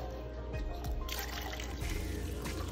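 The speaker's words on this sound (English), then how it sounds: "We're going to take a cup and then pour our vinegar in here." Vinegar being poured into a cup, a close steady liquid trickle that swells and splashes briefly, with no voices.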